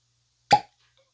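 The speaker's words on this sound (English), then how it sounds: "A cork pop." A real cork pops out of a Hendrick's Flora Adora gin bottle in one sharp, close pop with a brief trailing hiss, followed by silence.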